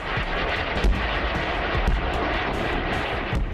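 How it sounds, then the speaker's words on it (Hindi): An Apache AH-64E attack helicopter is in flight, a dense and steady roar of engine and rotor with occasional low thumps, loud and continuous throughout with no voices. "अपाचे हेलीकॉप्टर, जिसे वायुसेना का हवाई टैंक कहा जाता है।"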